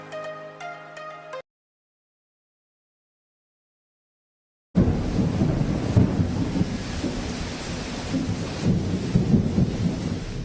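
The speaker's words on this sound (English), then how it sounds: "The rains have started." A rainy-season thunderstorm with heavy rain and low rumbling thunder fills the second half steadily after a short music jingle and a silent gap.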